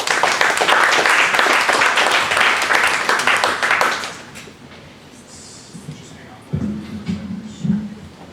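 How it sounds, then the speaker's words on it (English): A presentation audience at a Data Visualization DC quarterly event claps in a loud, dense burst for about four seconds, then it dies away into a quiet room with a few faint knocks and shuffles. "One last round of applause."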